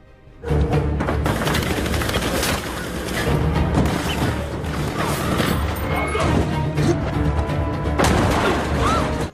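Gunfire from an action film scene as a man flees across the fragile rooftops of a slum under a hail of bullets, a loud dense barrage of shots and crashes with pounding score, continuous throughout.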